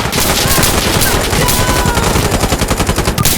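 Rapid automatic gunfire in the video game Insurgency Sandstorm rattles out in a dense, loud burst of repeated shots, with steady rhythmic pulses toward the end.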